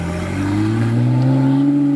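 A Porsche passes close by with its engine revving, a loud, rising engine tone climbing steadily in pitch over two seconds.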